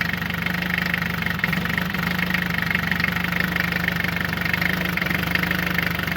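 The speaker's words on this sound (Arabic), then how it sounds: "الموتور فيرجف." A steady engine idles with a constant low rumble and a rattling vibration, the engine shaking, running continuously and fairly loud with no talking.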